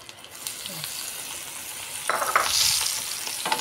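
Onions and small raisins sizzle and fry in butter in a pan while a utensil stirs and scrapes them, with the bursts of sizzling growing louder toward the end.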